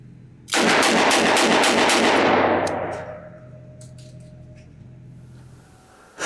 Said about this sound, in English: I'm just gonna see if I can shoot this thing kind of fast